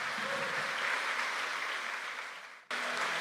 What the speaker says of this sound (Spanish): Dale ese aplauso fuerte a Cristo, pues.